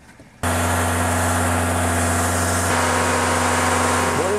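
A car engine abruptly starts revving hard and holds a steady high-rpm drone during a home diesel particulate filter cleaning, loud and close, with a slight pitch shift partway through.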